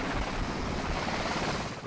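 Helicopter airborne on the way to the amphibious assault ship USS Gunston Hall, a dense steady rotor and turbine roar filling the whole clip, loud and close as heard from inside the cabin.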